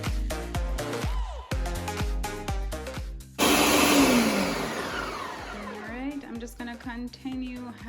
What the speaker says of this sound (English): I'm gonna go ahead and start blending again.